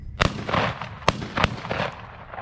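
Several sharp gunshot cracks ring out during a hunt, spaced irregularly over a couple of seconds, loud and close with a rolling outdoor echo after each report.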